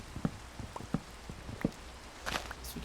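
Minecraft game rain patters faintly as a low hiss, broken by several soft, scattered taps like drops or footsteps at irregular intervals.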